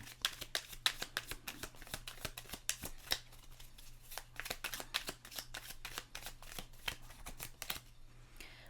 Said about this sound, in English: Let's get one more tarot card,